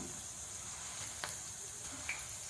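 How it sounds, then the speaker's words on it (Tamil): Crushed garlic cloves, skins still on, fry in hot oil for a South Indian spicy garlic mixture, giving a faint, steady sizzle with a couple of brief pops and no talking. "பூண்டு தோலோடு நசுக்கி வச்சுருக்கேன், அதையும் வறுத்து எடுத்துக்கலாம்"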